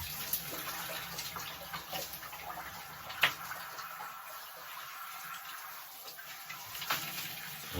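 Tap water running steadily while a man rinses his shampooed hair backward, a constant wash of splashing with a few sharper drips and splats, close and without talk.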